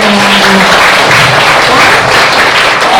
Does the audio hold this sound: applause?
yes